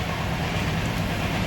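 A passenger train rumbles along the rails in a steady, loud, continuous roar with no talking.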